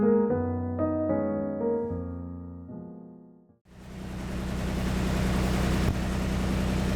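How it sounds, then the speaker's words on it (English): A sailboat's inboard engine idles in the early morning dark, a steady low rumbling chug that starts partway through after a few tonal beeps and holds at a constant, close, moderate level. "Just started up the engine."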